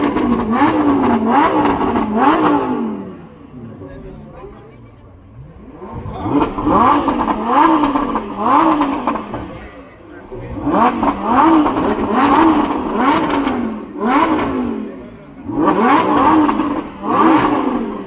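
Cars accelerating and revving at an exclusive car event in Chile, loud, close engine bursts rising and falling in repeated waves with short lulls between passes.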